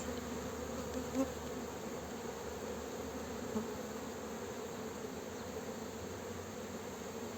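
Honeybees buzzing at an opened hive in Muğla in April, a steady, fairly faint droning hum that holds throughout with no voices.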